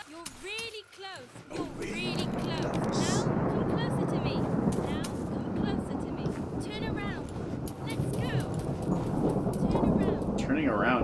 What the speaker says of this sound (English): The storm is close.